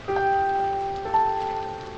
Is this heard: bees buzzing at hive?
no